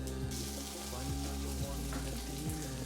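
Risotto rice balls deep frying in hot oil give a steady, dense sizzle and crackle, close and continuous throughout, with no voices.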